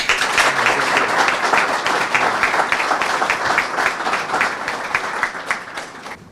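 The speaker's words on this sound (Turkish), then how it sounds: "Onlara güzel bir alkış önce." Sustained applause from a crowd, steady dense clapping throughout with a slight fade toward the end.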